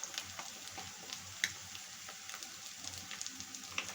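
Duck eggs frying in a pan with spices as cumin powder goes in, a faint, steady sizzle with scattered soft crackles and pops, no voices.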